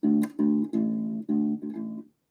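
A bass line on a U-Bass of six sustained, evenly spaced notes in a steady stepwise 12-bar blues pattern in A, played alone with brief gaps between them.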